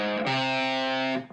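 Electric guitar run through overdrive distortion, a short phrase with a hammer-on and pull-offs, two sustained gritty notes ringing loud and close with no talking.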